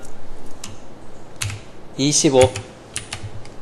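A brief burst of computer keyboard typing as coordinates are entered into CAD software, quick soft key taps alongside a speaking voice, nearby and moderately loud.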